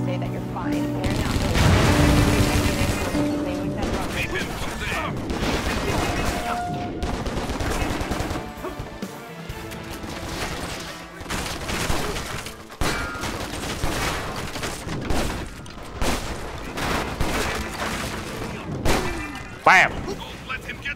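Enemy gunfire in Stranglehold, the John Woo shooter: loud, continuous volleys of shots and thuds filling the whole stretch, with dense bursts early and sharper isolated cracks later, and a voice talking over them at times.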